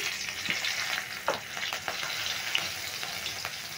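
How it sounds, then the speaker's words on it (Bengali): Green chili sizzling and crackling in hot oil for a tempering, a steady close frying hiss with small pops throughout and no talk. "আর একটা কাঁচা লঙ্কা আমি ফোড়নে দিয়ে দিচ্ছি।"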